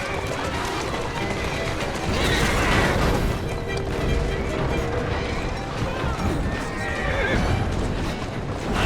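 Horse-drawn carriages rush along in a video game set in Victorian London, with neighing horses, galloping hooves and rattling wheels mixed with crashes under a dense, continuous game soundtrack.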